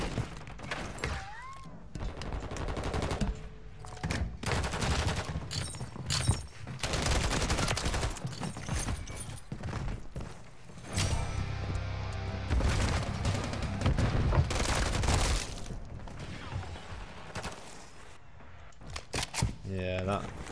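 Semi-automatic gun fire in Modern Warfare 3, repeated sharp shots in irregular bursts amid explosions and thuds, with people talking over the action throughout.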